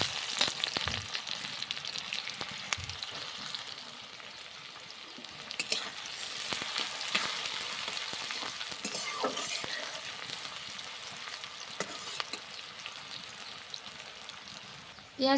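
Whole cumin seeds, bay leaf, dried chilli and onion fry in hot oil for a chicken curry, giving a constant crackling sizzle dotted with sharp spattering pops and occasional stirring clicks.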